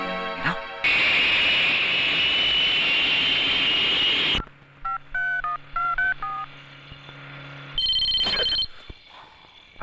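A telephone rings in a 1997 Bollywood action film scene: short, bright tonal ring bursts and dial-style beeps alternate with loud noisy stretches of score.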